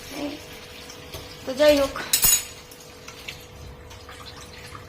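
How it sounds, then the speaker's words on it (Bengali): Tap water runs while a bowl is washed, with splashing, a few clinks of the dish and a sharp knock, close by, and a person speaks briefly over it. "বাটির জন্য বাটি ধুচ্ছি আর কি, বাটি নিতে হবে তো ভিক্ষের জন্য, তো বাটি ধুচ্ছি।"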